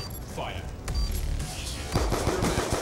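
Rapid automatic gunfire bursts from Call of Duty Black Ops II multiplayer, loud and repeated in clustered volleys with sharp cracks, layered with game effects and players talking over the shooting.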